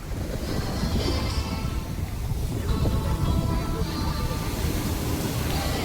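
Sea waves rolling onto the shore at Shivrajpur beach near Dwarka, with heavy wind buffeting the microphone, a continuous rushing roar without clear voices.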